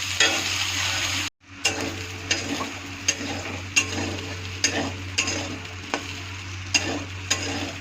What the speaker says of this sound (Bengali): তেলটা গরম হয়ে গেছে, এখন আমি সয়াবিনটা দিয়ে দিব।